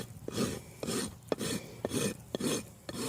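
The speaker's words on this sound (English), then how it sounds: "file it to the front of the line" A rasp files a hoof during trimming in about six even back-and-forth rasping strokes, each with a sharp scrape at the turn, close and clear with no speech.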